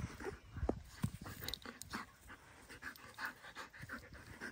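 A Dalmatian pants steadily and close by, quick rhythmic breaths running through the whole stretch with a few soft snuffles and faint movement noises, no voices over it.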